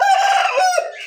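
A roughly one-and-a-half-year-old rooster crows once, loud and close, in a single sustained call lasting about a second.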